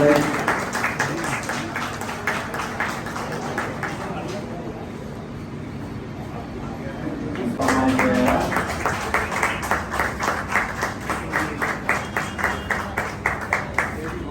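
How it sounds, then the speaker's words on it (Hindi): Audience applause at a press club event in Basti, bursts of clapping from a gathered crowd with a rhythmic stretch of rapid claps near the end, interrupted by a quieter gap with voices. "इनके लिए जोरदार तालियां"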